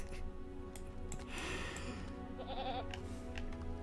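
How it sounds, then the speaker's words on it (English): A goat in the online game Lord of the Rings Online gives a wavering, quivering bleat partway through, set against a steady bed of game ambience and music. "that's a really cool goat"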